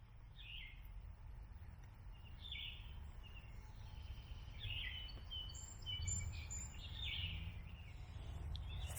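Birds sing along small woodland trails among flowers, with repeated short chirps and whistled calls at a moderate distance over a low ambient rumble and no voices.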